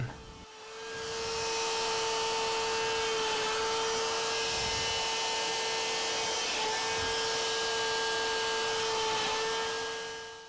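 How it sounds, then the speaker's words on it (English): Steady, continuous whine of a power drill boring a row of shelf pin holes through a guiding jig, a loud sustained tone with slight dips as each hole is drilled, no talk. "Now here's a row of holes drilled in real time."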